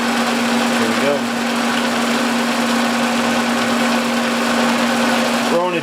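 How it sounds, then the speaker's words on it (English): A lathe takes a fifty-thousandths cut on a steady rest, spinning at about 530 RPM, making a continuous loud mechanical hum with a steady tone, while someone speaks briefly over it. "We're only feeding it about 1/2 inch per revolution, and we're running about 530 on the RPM."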